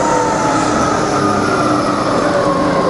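A Bridgeport milling machine head spins at high speed near 3000 RPM, a loud, continuous mechanical whine with steady tonal hum and rumble, no voices.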